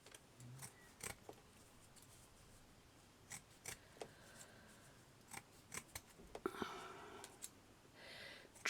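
Scissors snip through paper scrap while butterfly shapes are cut out, a series of quiet, close, irregular crisp clicks and cuts spaced over several seconds, with faint rustling between.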